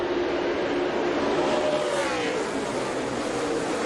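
NASCAR race cars accelerating into turn 1, a dense, loud roar of several engines revving together at close range, sustained throughout.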